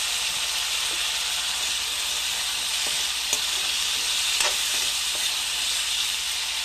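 Potatoes fry in a pan with a steady hissing sizzle, moderately loud and close, marked by a few faint taps of stirring and no voices.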